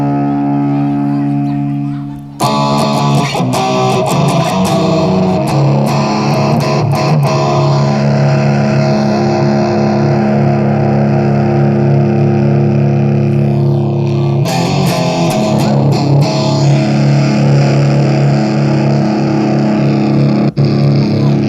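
A heavily distorted electric guitar through a TANK-G amp model plays sustained, gritty chords with a buzzing amp tone, loud and continuous after a brief quiet start, with one short break midway.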